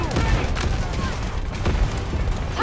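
Rapid gunfire in the mobile shooter Delta Force, a dense burst of shots and booms that keeps up throughout, with a voice talking underneath.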